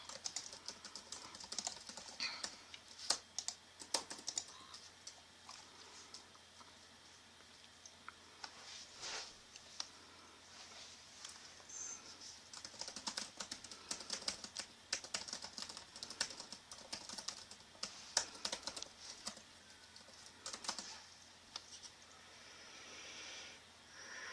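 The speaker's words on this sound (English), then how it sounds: "that is your typing that I'm hearing" Someone types on a computer keyboard during a live online chat, with fairly faint, irregular bursts of key clicks and occasional pauses throughout.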